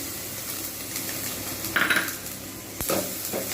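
Ginger garlic paste goes into hot oil with onions in a pan for egg korma, giving a steady close sizzle with a few metallic scrapes and clinks of a spoon against the pan.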